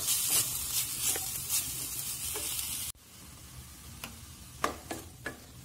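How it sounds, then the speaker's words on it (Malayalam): Sliced onions sautéing with salt in a pan give a loud, dense sizzle that drops abruptly halfway through to a quieter crackle with scattered stirring clicks. "നല്ലോണം ഇത് വഴറ്റിയെടുക്കാം."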